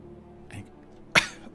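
A single short cough, close and fairly loud, preceded by a faint breathy throat sound, in an otherwise quiet room.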